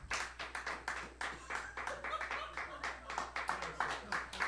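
Audience applause, heard as a small group clapping in quick, uneven bursts, fairly close and moderately loud, with a low steady hum beneath.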